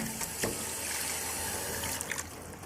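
Tap water runs steadily into a sink while a freshly caught trout is rinsed and gutted, a close, continuous splashing trickle with a few brief louder splashes and no voices.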